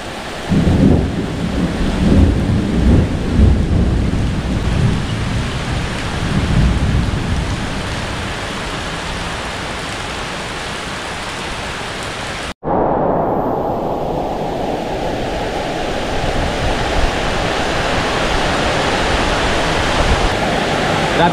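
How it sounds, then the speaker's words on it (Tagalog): Heavy rain pours steadily in Kampanalig, with rumbling thunder rolling low beneath the downpour early on. The dense, continuous hiss stays loud and close throughout, with no voices. "Grabe ang lakas ng ulan, sobra."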